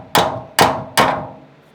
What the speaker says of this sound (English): Let me get my little hammer to persuade to go in.